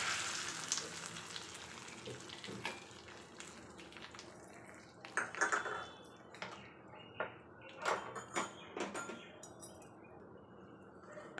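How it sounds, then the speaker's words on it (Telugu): Tempering spices for rasam sizzling in a small pan of hot oil, a faint, steady crackle joined by scattered light clinks of metal utensils and cookware nearby. "ఇప్పుడు రసంకి తాలింపు వేస్తున్నానండి"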